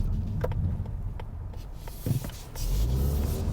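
A 2019 Mazda3 Sport GT AWD accelerating at full throttle, heard from inside as a steady low engine drone and road rumble that swells toward the end.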